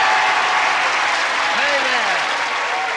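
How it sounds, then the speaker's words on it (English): A studio audience at a televised celebrity game show breaks into a brisk, steady round of applause, loud and sustained throughout, with a voice talking over it. "let's get the audience to give us a brisk round of applause"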